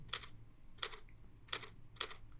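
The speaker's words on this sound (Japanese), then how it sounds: "シャッター音聞いてみましょうか。" Four evenly spaced, crisp shutter clicks from a Canon EOS R7 mirrorless camera set to 1/125 second, each a quiet, close mechanical snap roughly two-thirds of a second apart.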